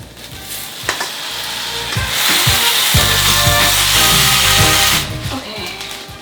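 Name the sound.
frying rice vermicelli (bihun) with veggies, meat and sauce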